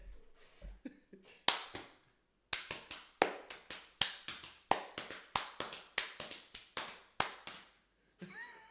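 Hands clap and slap the legs in a fast, even galloping rhythm that imitates a running horse, with loud close sharp smacks in repeated groups and a brief pause near the end.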